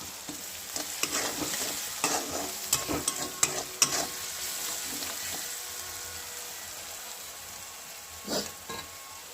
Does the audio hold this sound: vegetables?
yes